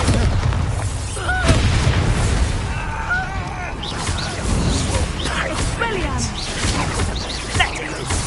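Booming spell blasts from the Confringo and Bombarda explosion spells in the video game Hogwarts Legacy, dull thumps and crashes recurring through busy game noise, with a voice calling out spell names over them.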